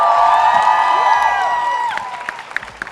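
Crowd cheering and whooping at a film event with actor Ajay Devgn, a loud swell of raised voices that fades over a few seconds into scattered shouts.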